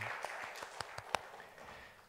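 A church congregation gives sparse, scattered claps that are faint and distant, with a few louder single claps standing out in a quiet room.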